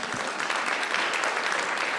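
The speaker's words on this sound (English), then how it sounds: "Let's give them a round of applause." An audience claps steadily throughout, a dense, even round of applause.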